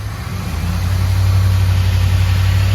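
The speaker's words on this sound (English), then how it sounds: "go ahead and rev it up" A car engine revved up from idle during a MAP sensor voltage test, a loud, close, steady drone that rises in level over a few seconds and holds, with no talk.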